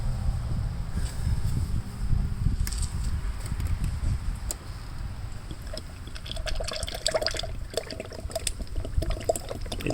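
Transmission fluid runs steadily through a funnel into a 2005 Pontiac Grand Prix's 4T65 automatic transmission, a continuous close, gurgling pour with faint drips and splashes toward the end.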